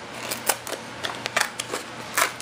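Inexpensive hand shears snipping through fiberglass cloth along pencil marks, a steady run of close, crisp, repeated cutting clicks with slightly uneven rhythm.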